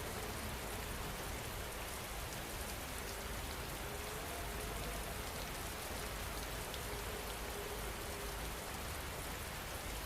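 Steady rain falls without pause, a dense even hiss of drops on surfaces, with no voices and no thunder.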